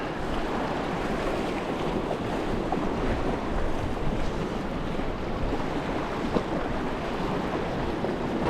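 Steady wind sweeping over the rocky shoreline at Prawle Point in South Devon, a continuous broadband roar with gusting surges and surf mixed in, loud and close, with no voices.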